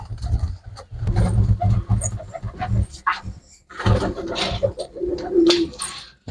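Pigeons of a pure breed kept for pigeon fancying coo loudly and continuously, several low, throaty coos overlapping with bursts of wing shuffling and other bird noise close by.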